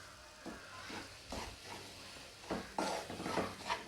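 Wheat flour roasting in hot ghee for a sweet halwa, giving a soft, close hiss and sizzle that swells in repeated bursts as the pan is stirred.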